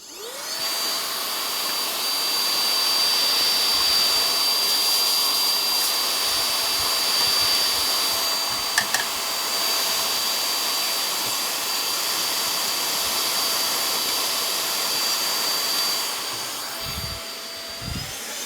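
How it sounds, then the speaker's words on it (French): A vacuum cleaner runs steadily at close range with a high whine, cleaning out the outdoor temperature sensor of a Saunier-Duval heat pump, with a brief clunk midway and a motor slowdown near the end. "je vais sortir l'aspirateur et puis attention au bruit"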